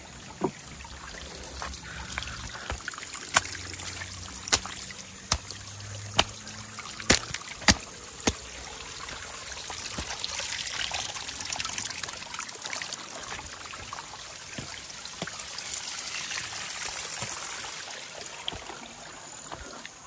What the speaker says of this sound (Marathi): आता बघा पाणी एकदम शांत आहे, एकदम स्लो चालू आहे पाणी.